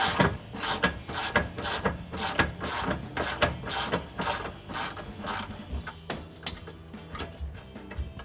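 A ratchet wrench with an 18mm socket loosening a rear lower control arm bolt on a 2005-2014 Mustang, giving a rapid run of loud, evenly spaced clicks close to the mic that slow slightly toward the end.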